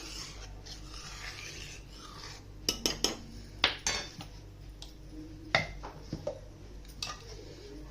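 A spoon scrapes and clinks against a metal pot while boiled, slightly thickened milk for mango kulfi is stirred, several sharp knocks over a soft rubbing hiss, close and without speech.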